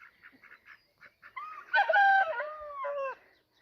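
Vlad the rooster gives one loud, close crow, a long ragged cock-a-doodle-doo lasting over a second, after a run of softer clucks and chatter from nearby fowl.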